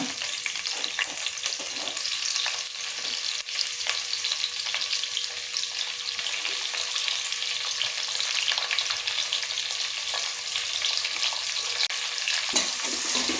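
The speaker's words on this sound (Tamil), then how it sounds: "வெங்காயம் நல்லா கோல்டன் ப்ரௌன் கலர் வர வரைக்கும் நல்லா வதக்கி கொடுங்க" Sliced onions fry in a pan for vegetable biryani, giving a steady, close hiss and sizzle that runs without a break, with light crackles of oil and no voices.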